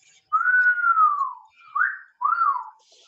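A person whistles three clear notes nearby: one long gliding tone falling in pitch, then two shorter rising-and-falling chirps, with quiet between them and no talking.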